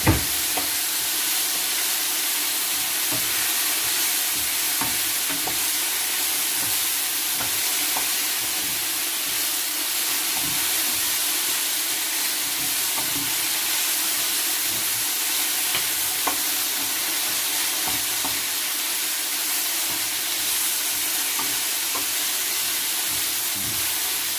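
Noodles being stir-fried in a hot pan, with a steady close sizzle and hiss and repeated scraping, clattering stirs of the utensil against the pan throughout.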